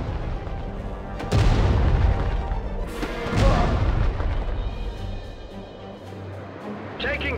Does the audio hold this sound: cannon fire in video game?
yes